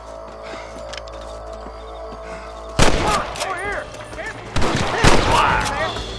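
Gunfire in the video game Red Dead Redemption: two loud bursts of rapid shots crack out, the second longer, amid game ambience and shouted voices.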